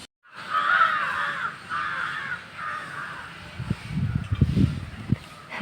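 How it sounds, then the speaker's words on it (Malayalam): Crows around a house roof give a series of loud, close caws, three or four drawn-out calls in a row, followed by a few duller bumps and scuffles near the end. "ഈ കിളികൾ ദേ എത്ര പേര് അങ്ങോട്ടും ഇങ്ങോട്ടും കിടന്ന് പറക്കുന്നതെന്നാണ്"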